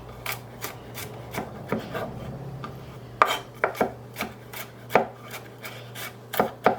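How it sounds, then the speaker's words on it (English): A knife slicing through an ingredient on a cutting board for a Mediterranean dish, giving a steady series of sharp, close chopping taps, faster in the second half, with no talk. "I'm just gonna slice it up."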